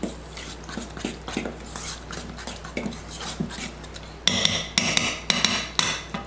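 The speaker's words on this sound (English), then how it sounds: "Make sure you thoroughly mix it." Cornbread batter stirred in a bowl, with repeated knocks and scrapes of a utensil against the bowl in an irregular rhythm that gets sharper and louder toward the end.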